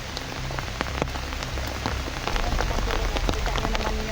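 Heavy rain pours steadily on a mountainside, a dense close hiss of drops drumming on surfaces with no letup across the whole stretch.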